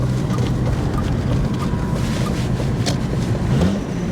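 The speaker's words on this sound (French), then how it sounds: "On peut se refaire une petite accélération." A car with some 300,000 km on it, after a gearbox and differential oil change, accelerates hard; a steady loud engine roar fills the cabin, with the low drone rising slightly near the end.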